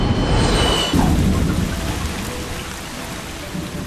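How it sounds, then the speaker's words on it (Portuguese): Heavy rain pours down steadily over a small airport in Dubrovnik, Croatia, a loud, dense hiss that fills the scene, with a deep rumble swelling near the start. "Uma chuva pesada se abate sobre um pequeno aeroporto em Dubrovnik, na Croácia."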